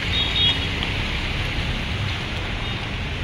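Heavy monsoon rain falls in a steady, dense hiss that fills the whole stretch without a break, loud and close, with no voices over it.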